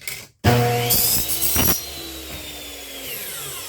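A power tool trims a scrap piece of 3/4 wood: a sudden loud whining cut lasting about a second, followed by the motor spinning down and fading with a steady hum.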